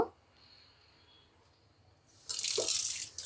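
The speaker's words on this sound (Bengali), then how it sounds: "সামান্য পরিমাণ একটু পানি আমি শুধু হাতটা ধোয়ার জন্য ইউজ করলাম" A small amount of tap water runs for hand washing while preparing cow's feet for nehari in a kitchen. The room is quiet at first, then a close, splashing gush of water plays for the last second.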